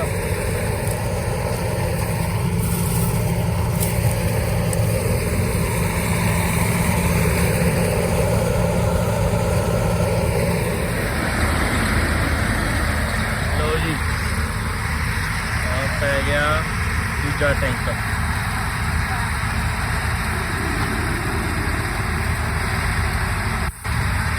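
A tractor engine runs in a wheat field at harvest time, a steady low mechanical drone that holds at a moderate level from start to finish.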